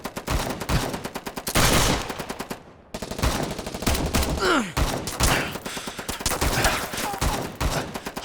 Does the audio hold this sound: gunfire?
yes